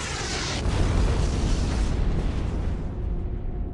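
A deep, rumbling explosion swells up and roars on, filling the low end before slowly fading, with no voices.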